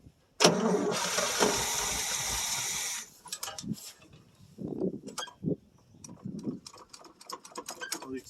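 A 1967 Chevrolet C10 small-block V8 cranks hard for a few seconds and catches after sitting about three years, then settles into a rough, uneven cold-start idle with close, loud engine noise throughout.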